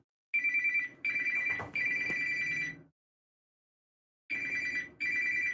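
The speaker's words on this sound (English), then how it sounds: "And of course, my phone's ringing." A telephone rings in repeated electronic bursts, each ring a bright warbling tone with short gaps between, fairly close and clear, followed by a pause of silence before two more rings.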